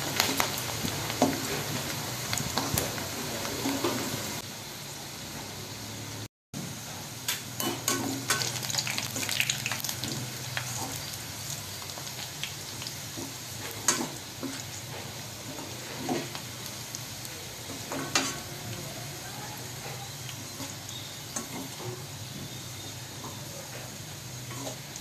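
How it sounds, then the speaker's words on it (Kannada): Food frying in a pan until browned: steady close sizzle with crackling pops and occasional stirring scrapes, continuous throughout with no talk. "ಇದು ಬ್ರೌನ್ ಕಲರ್ ಬರೋವರೆಗೂ ಹಂಗೆ ಫ್ರೈ ಮಾಡ್ತಿರ್ಬೇಕು"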